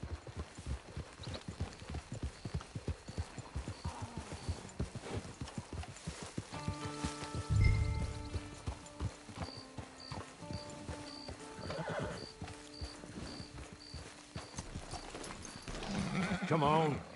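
A horse in the video game Red Dead clip-clops along in a steady rhythm, then gives a loud whinny partway through, with people talking over parts of it.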